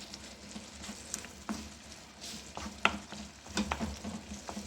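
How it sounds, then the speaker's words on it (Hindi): Onion and tomato masala stirred and fried in a pan until the tomato turns mushy: a low, steady sizzle with scattered scrapes and clinks of a spoon against the pan, moderately quiet and close, with no talking. "इसको अच्छी तरह भूनेंगे कि टमाटर बिल्कुल मैश हो जाए।"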